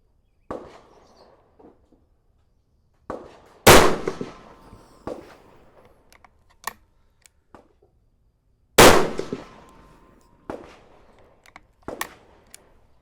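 Rifle shots from a tuner-equipped varmint rifle firing Berger VLD bullets at a target, with two sharp, loud cracks several seconds apart and smaller clanks and handling noises in between.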